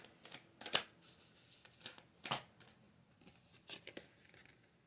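An oracle card deck is shuffled close up in short, crisp riffles and flicks, a few brisk bursts of papery snapping in a quiet room.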